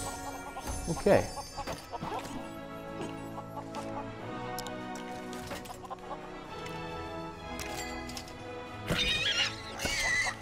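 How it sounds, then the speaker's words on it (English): Chicken clucking in LEGO Worlds on PS4 Pro, faint short clucks among horse whinnies, neighs and background game music, with a brief spoken word. "Where's the chicken? I hear it."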